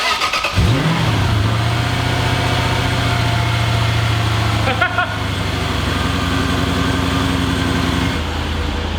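A Lexus IS300 fitted with a swapped 3UZ V8 cranks and fires up, then settles into a steady low idle with a brief mid-clip blip of the throttle through its exhaust, loud and close.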